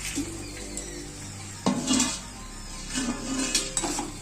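Roasted cauliflower florets being stirred into a thick gravy masala in a pan: scraping spatula strokes and clinks of utensil on metal, with a soft sizzle underneath, louder strokes coming in a few bursts.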